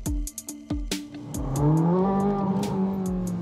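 A car engine revs hard after several sharp knocks, the pitch climbing and holding in a loud, sustained roar near a pedestrian crossing with speed bumps.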